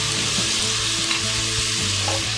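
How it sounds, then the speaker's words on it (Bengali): Garlic paste and Kashmiri chili powder fry in a hot pan for chole masala, a steady close sizzle with occasional stirring scrapes and no voices. "রসুন বাটা ফ্রাই হয়ে এসেছে। এবার আমি প্রথমে দিলাম কাশ্মীরি লঙ্কা গুঁড়ো"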